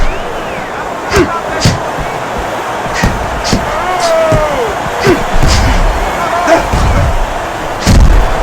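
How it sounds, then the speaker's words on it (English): In the Fight Night Round 4 boxing video game, sharp punch impacts crack out one after another, including an uppercut landing, with a commentator's voice and crowd noise running underneath. "Uppercut did the damage."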